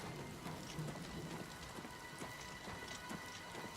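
Steady rain pours in the video game Elder Scrolls IV Oblivion Remastered, a dense hiss of drops on surfaces with scattered patters and a faint low rumble, quiet and continuous.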